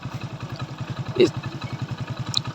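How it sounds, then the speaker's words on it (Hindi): Motorcycle engine idling smoothly just after a full service, a steady close putter of even rapid firing pulses with no rattle, one brief louder blip midway. "अब देखें कितनी एकदम मस्त साउंड है, ज़रा से भी झरझर की साउंड नहीं है।"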